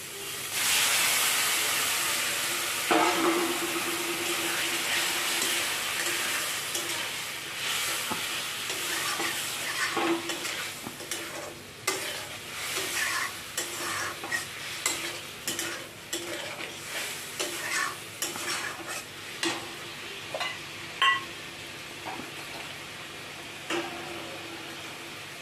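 Soaked paneer sizzles loudly in a frying pan for chilli paneer, the hiss fading gradually as busy scraping and stirring strokes take over, rhythmic and close.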